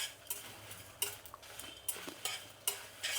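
Dry coconut being stirred in a pan for Karnataka-style sambar, quiet intermittent scraping strokes of a spoon against the pan over a faint sizzle, roughly evenly spaced, with no speech.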